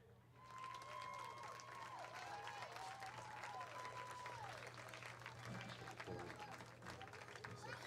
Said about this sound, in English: give them a great round of applause for their play here this week